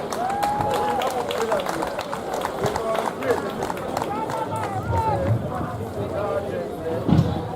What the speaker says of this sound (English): let's give a big round of applause for Carol Long